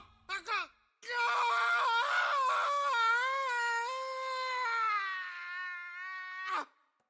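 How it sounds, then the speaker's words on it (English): Drawn-out, blood-curdling scream from a video game: two short cries open it, then a loud sustained wailing shriek holds for several seconds before it breaks off abruptly. "that was a blood-curdling scream"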